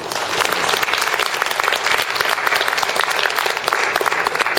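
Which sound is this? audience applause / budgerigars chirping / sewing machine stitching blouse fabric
audience applause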